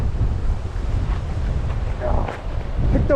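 Strong wind buffets the microphone at a seaside tent camp, a continuous low roaring rush with gusty swells, and faint indistinct voices surface briefly near the end.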